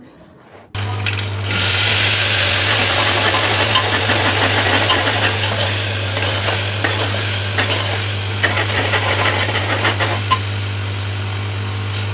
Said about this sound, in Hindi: तो यहाँ पे लगा देते हैं तड़का